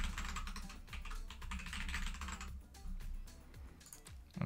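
Rapid close keystrokes on a computer keyboard while a password is entered during CasaOS setup on a Chuwi Hi XR10 Windows tablet, a dense clatter with a brief pause and a louder knock at the end.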